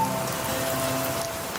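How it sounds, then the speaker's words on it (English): Steady rainfall patters on a surface, a dense even hiss with no voices. "And it's raining too."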